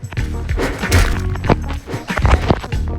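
Hits landing in a Roblox game, a rapid series of loud whacks and thuds in a busy, cluttered burst of impacts.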